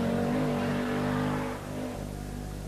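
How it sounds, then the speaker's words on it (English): Whistling Audi quattro rally car passing along a narrow country road during the 1982 Circuit of Ireland Rally, with a loud turbo whine and engine roar that swell and then fall away as it goes by. "The whistling quattro is a rare sound anywhere"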